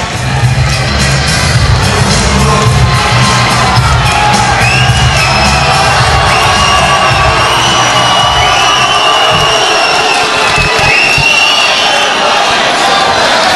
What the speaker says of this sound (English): Lloyd there, getting his crowd cheered up